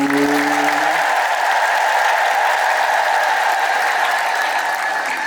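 Church congregation applauding on request, a loud, steady, dense crowd clapping held evenly throughout, with a brief voice at the very start.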